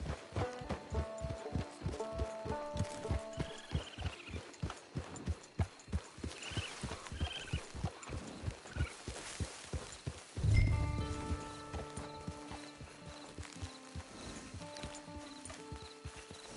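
Steady clip-clop of horse hooves walking at an even pace in Red Dead Redemption 2 Online, close by, with a brief louder thump partway through and no talking.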